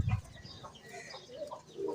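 A pigeon held in the hand gives soft low coos and murmurs, faint and close, with rustling and a brief thump at the start.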